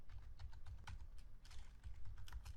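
Steady run of quick computer keyboard keystrokes while typing code, close and fairly quiet, with irregular bursts of clicks and no talking.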